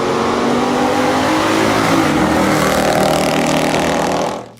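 A 1970 Chevrolet Nova SS396 muscle car's engine roars loudly and steadily with a dense, rumbling revving tone that holds for several seconds before abruptly cutting off.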